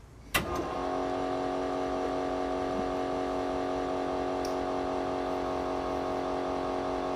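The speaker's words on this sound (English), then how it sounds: "Gene, go ahead and hit that fuel pump." An electric fuel pump on a carbureted custom car starts with a click and settles into a steady, close electric whine and buzz that holds for several seconds, with no talking.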